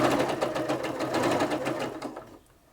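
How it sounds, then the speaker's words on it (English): Singer Quantum Stylist 9960 sewing machine running a straight stitch under foot-controller power, a fast steady mechanical whir with rapid needle pulses, close and fairly quiet, slowing and stopping near the end with no talk. "So we're ready to start sewing there."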